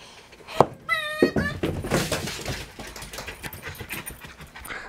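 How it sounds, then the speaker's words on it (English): A dog playing fetch indoors pants and snuffles close by, with a quick whimpering whine and scattered thumps and scuffles of movement. "That's one thing I do love about dogs, is dogs will actually play fetch with you."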